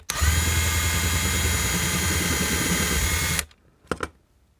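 A power drill bores out a rivet in an aircraft seatbelt sign, a loud steady whine for about three and a half seconds that stops abruptly, followed by two short bursts.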